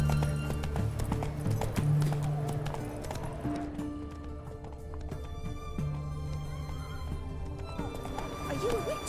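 Horse galloping in the Witcher 3 video game: a fast, steady clip-clop of hooves with a whinny, under game music and a voice urging the horse on.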